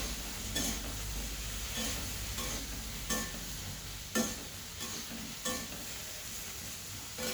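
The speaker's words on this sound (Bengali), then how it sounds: "বেগুন আর কাঁঠালের বীজগুলো আমি একটু নাড়াচাড়া করব।" Jackfruit seeds and eggplant sizzle gently in a pan as a spatula stirs them, giving a steady low frying hiss broken by periodic scraping strokes against the metal.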